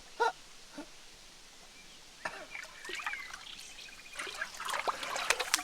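Water trickles and splashes in a river along a rural path, soft and uneven, broken by a few sharp splashes and faint voices that grow busier toward the end.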